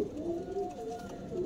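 An Andhra pigeon coos softly in a low, continuous throaty murmur, close by but faint, with no talk over it.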